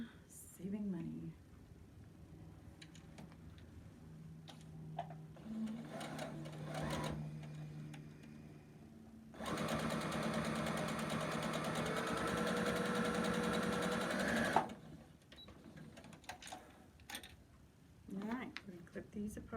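A sewing machine chain-pieces quilt blocks in a steady, rapid whirring run of several seconds, with quieter stitching bursts and a voice talking before and after.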